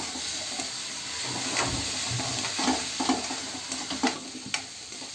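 Garlic, ginger and chili paste fries in a pan with cumin seeds, a steady sizzle broken by several sharp stirring scrapes, close and with no talking.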